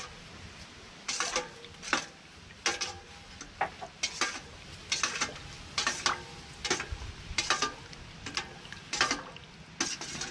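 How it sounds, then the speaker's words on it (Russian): A spoon stirs cabbage roll filling in a bowl, for Ukrainian-style cabbage rolls, giving repeated scraping, clinking strokes in a steady rhythm, close and moderately loud, with no talk. "Перемешиваем это все."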